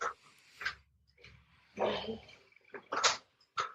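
A dog barking at a man driving a tractor outdoors, several sharp separate barks and yips at a distance, fairly faint, in an otherwise quiet space.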